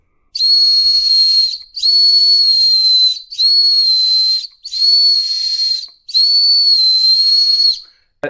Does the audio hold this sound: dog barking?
no